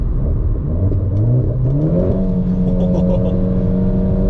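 A Renault 4 RS Trophy sports car engine with a six-speed dual-clutch automatic revs up and accelerates, the pitch climbing steadily then holding a loud, sustained throaty drone close by.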